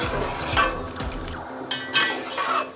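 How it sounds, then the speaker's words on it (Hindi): Soaked chickpeas and spices are stirred in a cooking pan, giving soft scraping and clinking of a utensil against metal in short, irregular strokes, close and moderately loud, with no talking. "अच्छे से मिक्स कर लेंगे।"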